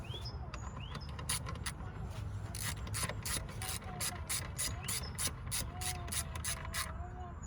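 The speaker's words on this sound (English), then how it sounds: "Gonna secure the air filter box bolt." A ratchet wrench tightens the air filter box bolt on a BMW Mini, its quick clicking strokes repeating in steady bursts close up against a low background hum.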